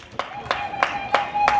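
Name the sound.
audience clapping hands on request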